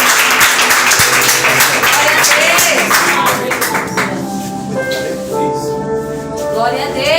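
Congregation clapping at an evangelistic crusade church service, a dense burst of applause that fades as a voice and music-like tones carry on over it.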